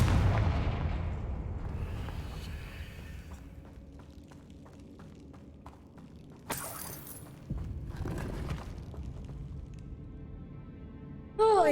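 A Confringo explosion spell fires in a video game, landing as a sudden loud blast with a bright burst partway through, followed by a second boom and a sharp final impact over a low rumbling ambient bed.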